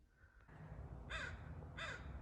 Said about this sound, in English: You're looking mighty fine, American crow.